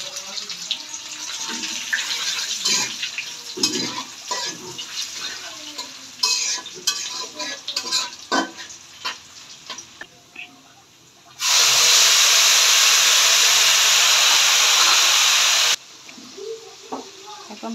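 Chopped onions go into hot oil tempered with cumin seeds, and stirring clatter gives way to a sudden loud, sustained sizzle that lasts a few seconds before easing off.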